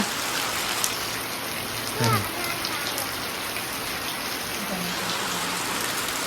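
Rain falling steadily in a village in Botad, Gujarat, giving a constant close hiss of drops on surfaces, with a brief dull thump partway through and faint background sounds.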